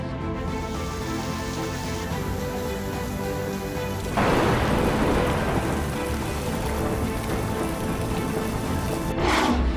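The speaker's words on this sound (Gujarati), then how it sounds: "દક્ષિણ ગુજરાતમાં પણ ધોધમાર વરસ્યો।" Torrential pre-monsoon rain in South Gujarat, a steady roaring downpour that swells louder midway, with low rumbles of thunder beneath and no talking.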